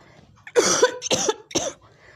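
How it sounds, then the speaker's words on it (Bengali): A woman coughs three times in quick succession, loud and close to the microphone, with short pauses between the harsh bursts. "সরি আমার প্রচণ্ড কাশি"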